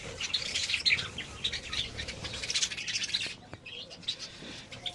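Budgerigars in a breeding cage, with a hen sitting on eggs, chirp and twitter in busy overlapping bursts, bright and close, easing off near the end, with an occasional soft flutter.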